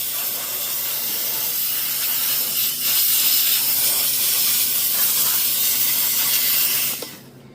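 A Harbor Freight handheld steamer blasts a steady, loud hiss of steam for about seven seconds, cutting off abruptly at the end.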